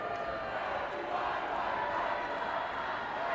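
Crowd noise at a high school hockey game in School District 11, a steady roar of many voices with shouts and cheering from a large crowd in an arena.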